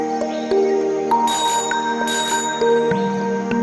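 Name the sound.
bicycle bell ringing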